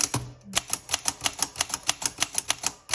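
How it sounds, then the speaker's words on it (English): Rapid, regular clacking of a 1939 Remington Remette manual typewriter, each key strike sharp and close, with a brief mechanical thunk at the start before steady typing. "so it's going to be a little bit a noisier typewriter"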